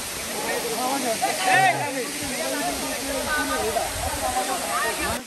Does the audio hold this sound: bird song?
no